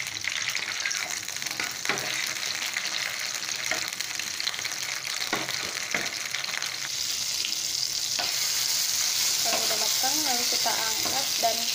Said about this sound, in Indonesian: Lalu tumis bumbu yang sudah disediakan tadi.